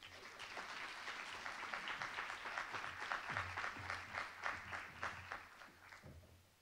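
Audience applause welcoming a keynote speaker at a campus symposium, a steady wash of many hands clapping that holds for several seconds before tapering off.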